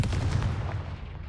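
Confringo blasting spell from Hogwarts Legacy, a single sharp explosive burst followed by a short rumbling decay.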